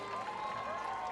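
Crowd cheering and applause at a Battle of the Nations 2016 medieval combat bout between Latvia and Moldova, a steady dense roar with clapping filling the moment without pause.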